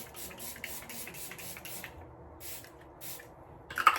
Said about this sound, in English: take this fixing spray